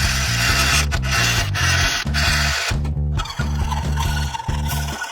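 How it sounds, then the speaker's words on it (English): A blade is stroked back and forth on a sharpening stone in a steady rhythmic rasp, each pass a close, gritty scrape with brief pauses between strokes. "We'll get the other side sharpened."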